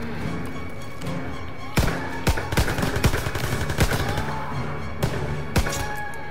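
Rifle and machine-gun fire in the World War II shooter Call of Duty WWII: a lull of game ambience, then loud, close sharp shots in quick clusters with scattered single cracks.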